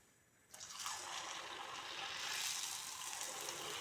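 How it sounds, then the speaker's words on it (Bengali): Fuchka (puri) dough rounds are dropped into hot oil, and a loud, steady sizzling hiss starts suddenly after a brief quiet moment and continues without any talking. "তেলটা গরম হয়ে গেছে, এখন আমি ভেজে নেব।"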